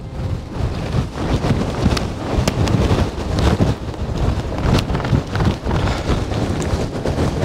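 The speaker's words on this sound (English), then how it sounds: "I think the wind always finds me." Strong wind buffets the microphone while winter camping on the Lake District's eastern fells, a loud continuous roar with gusty surges and rattling bursts throughout, no voices.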